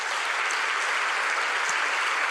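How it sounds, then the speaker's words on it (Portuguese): A church congregation applauding, a dense, even roar of many hands clapping together, steady and full for a couple of seconds with no speech over it. "Vamos aplaudir o nosso Deus."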